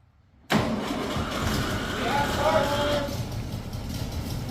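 A 1960 Volkswagen Single Cab barn find, its engine catching after a pause and settling into a rough, steady running rumble close by, with faint voices in the background.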